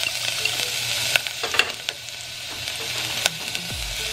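Garlic frying in a pan while cooking honey lemon chicken, a steady close sizzle with occasional stirring scrapes and clinks, no talk.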